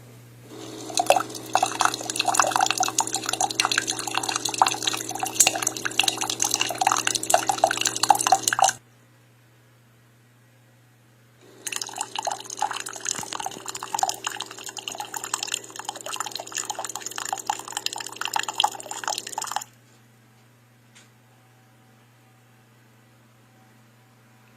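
A Litchi single-serve K-cup pod coffee maker brews in two separate bursts of hissing, gurgling flow, each lasting several seconds, with a low hum underneath and near silence between and after.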